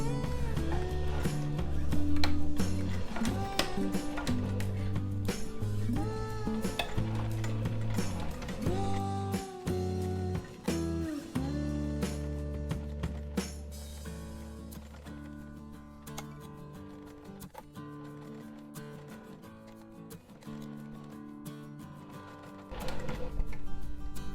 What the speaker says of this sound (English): now I'm just going to stitch the other side